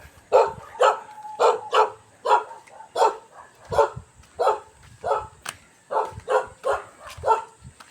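A dog barks repeatedly and noisily, about a dozen loud sharp barks in a fairly regular rhythm, fairly close and without voices over them.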